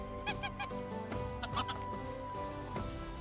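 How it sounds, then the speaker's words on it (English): Geese in the game Medieval Dynasty give a quick series of honks and squawks, fairly close, over low background game ambience and music. "Geese."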